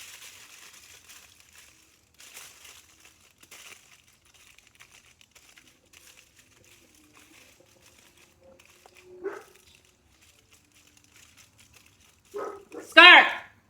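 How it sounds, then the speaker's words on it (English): A pet dog whimpers and yelps from another room during home cooking, faint, scattered cries early on, then a louder burst of whining barks near the end, with a person talking in between. "I'm sorry if y'all hear my dog out there."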